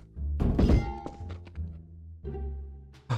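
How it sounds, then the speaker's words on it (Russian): A few heavy thunks and thuds of a swung crowbar hitting something in Garry's Mod, close and muffled, with short pauses between the impacts. "где-то вот тут кто-то махнул монтировочкой"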